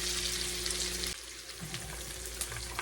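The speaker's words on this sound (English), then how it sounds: "Let them onions cook just a minute" Onions frying in grease in a pan, a steady close sizzle and crackle with a low hum underneath, fairly quiet and continuous, no voices.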